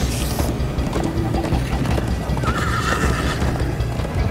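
Horses gallop in the Minecraft: Story Mode video game, with a steady clip-clop of hooves, neighing and whinnying over a dense, loud game soundtrack and effects.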